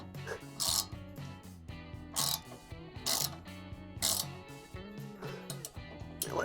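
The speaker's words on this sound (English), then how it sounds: "You could either hold the bottom still and tighten it," Ratcheting clicks from tightening a suspension part on a Ford Focus ST, coming in repeated short bursts of metallic ratchet clatter, close and fairly loud, with brief pauses between strokes.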